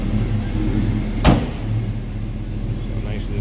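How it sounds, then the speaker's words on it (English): A 1941 Chevrolet Special Deluxe two-door street rod's door shuts with a single sharp, solid thunk, set against a steady low background hum. "So nicely the door closes."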